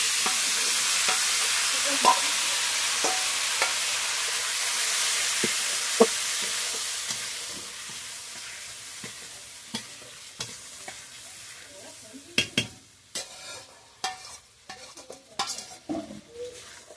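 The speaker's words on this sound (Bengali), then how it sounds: "তরকারিগুলো একে একে গরম করে নিচ্ছি এখন।" Meat curry is reheated in a pan. It sizzles with a broad hiss at first, then a spoon scrapes and knocks against the pan in repeated close stirring strokes as the frying dies down.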